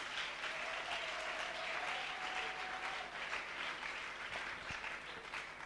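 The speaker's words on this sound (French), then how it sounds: "On peut l'acclamer?" A crowd at a large religious gathering applauds continuously in a hall, a dense, even wash of clapping that holds steady for several seconds, fairly distant and moderately soft.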